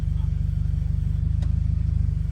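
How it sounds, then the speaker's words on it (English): A 2015 Mercedes CLA 250 4MATIC with a faulty transmission valve body, giving a steady low rhythmic rumbling pulse close by, with a faint click partway through. "The valve body is making some noises."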